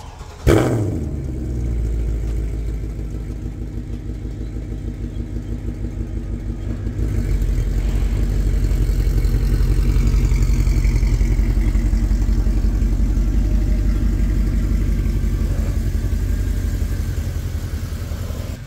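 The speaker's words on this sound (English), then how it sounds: "let's start it up and go for a ride" A Mercedes E63 AMG with a 600 hp V8 cranks and fires with a sharp burst, then settles into a deep, steady, rumbling idle that grows slightly fuller partway through, loud and close with no talking.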